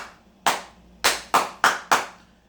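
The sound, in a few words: hand clapping imitating a hockey drum cadence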